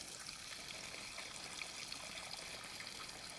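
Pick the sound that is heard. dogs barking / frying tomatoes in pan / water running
water running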